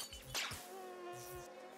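A thin, high insect-like buzz hums faintly throughout, with a few soft thumps and a brief swish, quiet and game-like.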